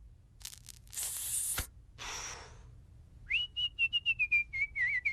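Cartoon baby in The Simpsons whistling on stage: a clear, wavering high whistle pulsing in quick bursts, heard after a short burst of breathy hissing and gasping noises.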